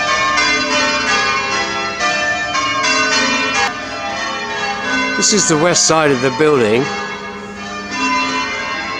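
Church bells of St Andrew's Church, Plymouth, peal loudly and continuously, layered rings overlapping, while a person speaks nearby over them.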